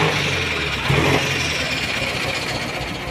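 A truck engine idles nearby in a steady, even rumble with a faint knock, loud and continuous with no voices.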